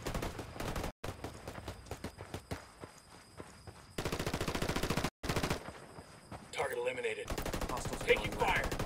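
Rapid gunfire crackles through a video game firefight, with bursts of automatic fire and sharp single shots in choppy, close, loud stretches broken by brief silent cuts, with little talk.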